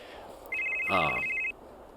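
A telephone rings once in the mystery video game Psych: Mystery in the Park, a single steady electronic tone lasting about a second, fairly quiet against a soft background hum.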